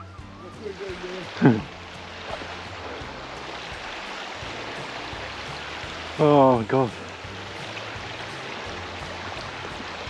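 The River Onny flows in a steady rushing wash of water close by, with a man briefly exclaiming and a couple of short whistling or squeaking sounds over it.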